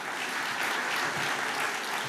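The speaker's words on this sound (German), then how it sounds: "Der Beifall gehört Ihnen, meine Damen und Herren" Audience applause at the Altmark 2022 business award ceremony, a dense, steady clapping from a full hall that holds evenly throughout without voices.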